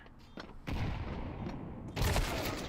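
A grenade goes off in a video game match, a deep, booming blast that rolls on, then a second heavier burst hits a moment later, close and loud with no speech.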